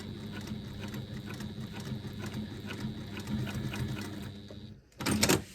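A sewing machine stitches steadily over a hump jumper at a fast, even rhythm for several seconds, then stops briefly before a louder burst of stitching.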